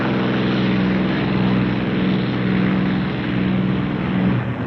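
World War II B-29 Superfortress bombers flying over the Pacific toward Japan in 1945 create a loud, continuous, droning propeller-engine roar with gentle throbbing pulses and no talk.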